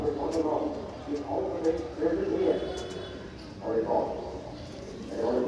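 Pigeons coo in a loft in soft, low repeated bursts that rise and fade several times, with occasional light fluttering and faint background noise between the calls.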